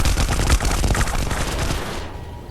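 Computer-controlled characters firing guns in the game Stars End: a dense, loud, continuous burst of gunfire rattles for about two seconds, then cuts off to quiet, with no talking.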